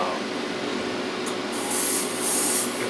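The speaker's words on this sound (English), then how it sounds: "Got that spraying just fine" Airbrush or spray gun laying down Stynylrez primer in a small test, a steady close hiss that swells louder in two bursts toward the end.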